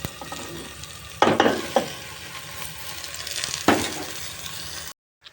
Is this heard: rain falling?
no